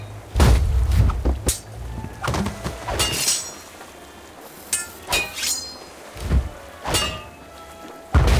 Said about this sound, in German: Entzünde die Kanone!